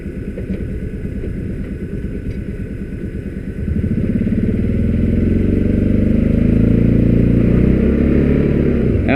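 An ATV engine with its diff lock engaged, reversing slowly on a trail run: a loud, close, rough idle that steps up to a heavier, steadier drone partway through.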